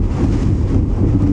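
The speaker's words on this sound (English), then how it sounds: "It's actually very windy." Strong wind buffets the microphone during a morning safari drive at Djuma Game Reserve, a loud, low, rumbling roar with no break over its short span.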